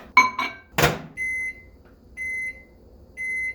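Microwave oven heating a peanut powder mix, with a thunk as the door closes, then three sustained steady beeps separated by pauses, close and clear.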